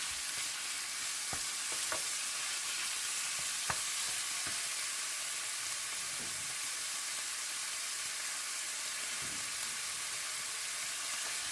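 About 400 grams of room-temperature ground meat fries in a pan for baked macaroni, a steady moderate sizzle broken by sharp scrapes and clicks as it is stirred, with no voices.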